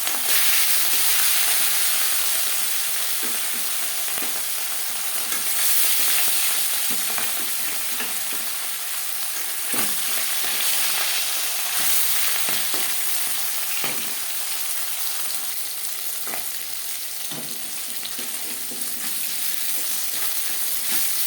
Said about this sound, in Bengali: 5 চামচ রিফাইন্ড অয়েল গরম করে নিয়েছি, দিয়ে দিলাম মাছ